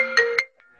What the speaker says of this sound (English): Someone's trying to ring me.